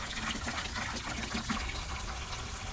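Water gushes steadily into a pressure washing mix tank for a deck and house wash, a continuous, fairly loud rushing flow with no talk over it.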